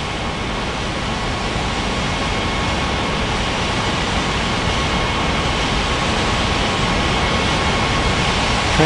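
Airliner jet engines roar steadily in an air traffic control game set at a fictional island international airport, a loud continuous broadband rumble and hiss filling the whole stretch with no talk.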